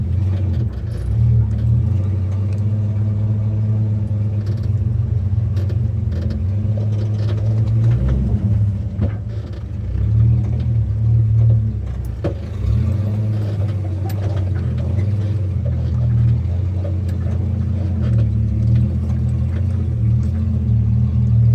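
An off-road vehicle with swapped gearing crawls in low gear over a tall trail ledge, its engine a steady low rumble and drone with a few small rises in revs, close and continuous for about twenty seconds.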